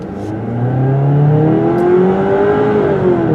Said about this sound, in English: that quiet engine isn't so quiet now